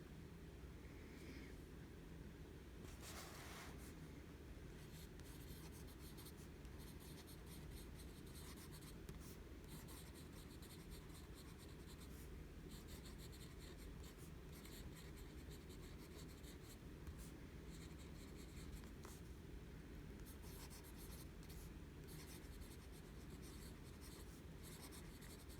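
A TWSBI Go fountain pen with a broad nib scratches steadily across paper, a faint continuous writing rustle with small stroke-by-stroke variations, close and quiet with no talking.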